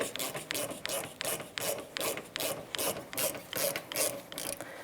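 A ratchet loosens a metric number 7 Allen head slider bolt on the rear brake caliper of a 2008-13 Mazda 3, giving about a dozen close, evenly spaced bursts of clicking, each followed by a short pause.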